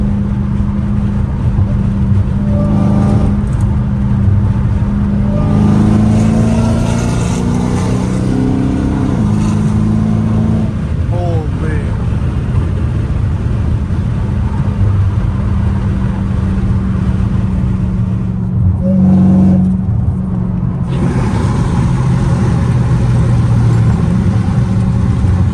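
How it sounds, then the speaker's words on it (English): Straight-piped Dodge Hellcat Redeye cruising on the highway, a loud deep engine drone with several rising revs and shifts, heard continuously from inside the cabin. "Exhaust is ridiculously loud."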